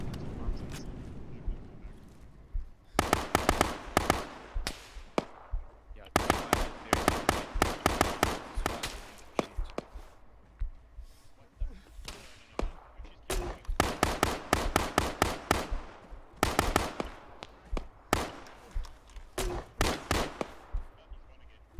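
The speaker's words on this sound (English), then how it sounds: "Okay, you can stop firing now." Video game gunfire crackles in sharp, repeated bursts, separate volleys spaced a few seconds apart and fairly loud throughout.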